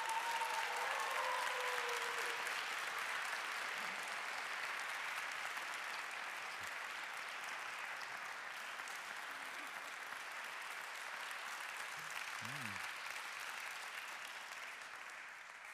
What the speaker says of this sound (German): Ein schöner Applaus, ein langer Applaus.